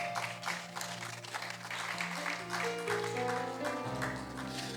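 A church congregation applauding to acclaim the Lord, steady moderate clapping over sustained music tones, fairly quiet.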